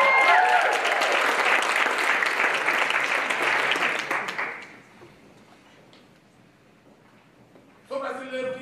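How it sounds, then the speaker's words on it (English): An audience at a swing dance club showcase claps along to a rhythm, a dense, close wash of hand claps for about four seconds that then drops to near quiet before voices and music return at the end. "we're going to clap to the rhythm"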